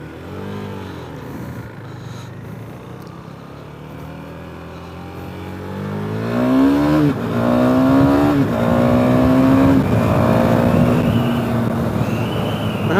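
A KTM Duke motorcycle revs up through the gears, its engine note climbing repeatedly in pitch and growing louder in the second half, heard close and continuous without speech.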